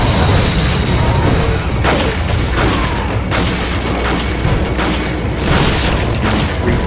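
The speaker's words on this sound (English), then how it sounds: "This is where I use my grenades." Grenades blasting in Resident Evil 4 during a siege-style fight, a string of loud booming bursts over dense, roaring battle noise that never lets up.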